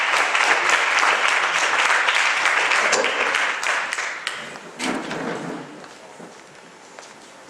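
Audience at a peace education event for students claps steadily, loud and dense at first, then thinning and tapering off toward the end.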